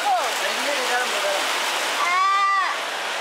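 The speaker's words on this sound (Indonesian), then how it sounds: "Tadi belum kelihatan hujannya, sekarang udah kelihatan. Ini deras banget." Heavy rain pours down in a steady, loud broadband wash with no break, while several people talk over it from close by.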